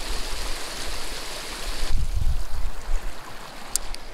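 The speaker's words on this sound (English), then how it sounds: "We got a little creek right here." Small mountain creek in the woods by a lake, heard as a steady broadband rush of flowing water that carries on throughout, with a brief louder low burst of splashing and turbulence near the middle.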